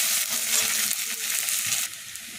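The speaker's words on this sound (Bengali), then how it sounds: "পেঁয়াজটা লাল লাল করে ভাজা হয়ে গেছে" Onions fry until reddish-brown in a pan for muri ghonto, a steady close sizzle with soft stirring scrapes. The sizzle drops slightly toward the end.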